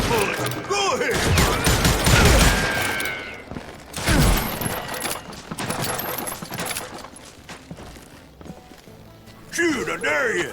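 Gunfire in the Western shooter Call of Juarez: Gunslinger on Nintendo Switch, with repeated shots and ricochets mixed with hoofbeats and game noise, fairly loud, while voices talk over the action.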